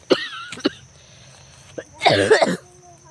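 Two short coughs come first, then after a pause a longer, harsher cough with a voiced rasp, close and fairly loud.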